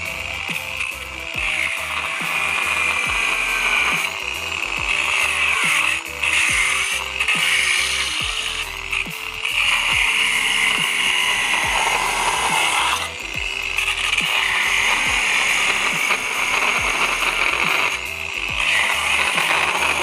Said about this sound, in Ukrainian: можемо порізати бетон звичайним диском по каменю